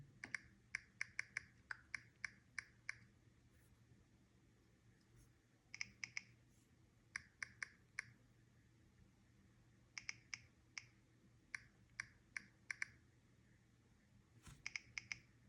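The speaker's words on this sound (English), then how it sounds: "and the haptic sounds when typing." A Samsung S25 Ultra phone keyboard gives crisp haptic clicks while typing, quick bursts of small ticks separated by short pauses, faint and close with no talking.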